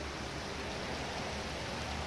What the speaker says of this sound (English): Raining a little bit today.